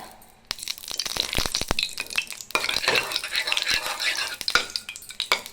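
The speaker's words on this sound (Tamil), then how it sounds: "கடாய் சூடாயிடுச்சு இப்போ வந்து நெய் விட்டுக்கலாம்" Ghee goes into a hot kadai while Ashoka halwa is being made, bringing a crackling sizzle punctuated by sharp metallic clicks and scrapes of a utensil against the pan, close and moderately loud.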